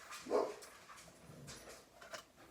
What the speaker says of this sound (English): I'm really sorry about my dog.